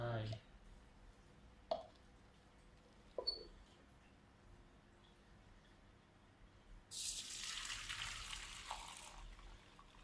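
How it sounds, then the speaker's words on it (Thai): Faint clicks and clatter give way to a steady rushing pour of hot water into a pan for dyeing fishing-net yarn, soft and close, lasting a few seconds before tapering off. "แล้วเราก็เทน้ำร้อนลงไป"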